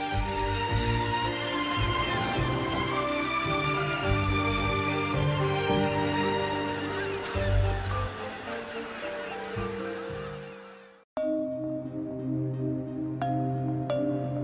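A noisy flock of migratory geese calling together at a hub on the East Asian–Australasian flyway, layered honks and cackles close and loud, thinning briefly after a short gap before resuming.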